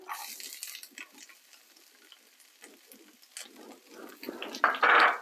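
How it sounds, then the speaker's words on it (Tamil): Cumin, mustard seeds and sliced onion frying in oil, a soft crackling sizzle with scattered stirring scrapes that rises into a louder burst of frying near the end. "சின்ன சீரகம் கடுகு இவெல்லாம் போட்டு இப்படி நான் தாளிக்கிறேன் இப்ப வந்து வெங்காயம் பட்டி வச்சிருக்கிறேன்"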